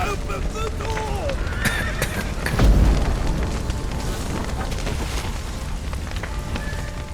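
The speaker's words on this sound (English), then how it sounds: "The horses!" Horses neigh and whinny amid clopping hooves, a low boom and crackling fire in The Witcher 3: Wild Hunt, with people talking over the scene.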